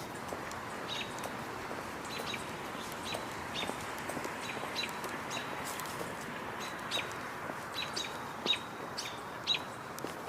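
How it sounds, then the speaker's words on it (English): Hawk calls ring out outdoors near a nest tree, with repeated thin, high cries and chirps spread across a steady background of other bird song and ambient noise, and no talking. "judging by the vocalizations I'm hearing, I'm guessing there are hawks nearby"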